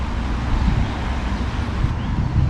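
Wind gusts across a New Jersey pond, a steady low rumbling buffet that rattles the microphone, loud and close, with no voices.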